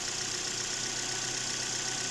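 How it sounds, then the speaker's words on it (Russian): A Chevrolet Cruze 1.8-litre F18D4 engine idles steadily, a smooth even hum with a faint rhythmic ticking and no voices. "Так, завели. Двигатель работает ровно."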